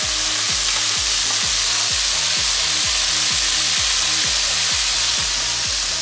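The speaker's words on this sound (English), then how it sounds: "I'm just going to put that juice into the pan as well" Juice poured into a hot pan of chicken jambalaya sizzles and fries steadily, with a regular rhythmic scraping or stirring pattern repeating about twice a second throughout, close and fairly loud, no talking.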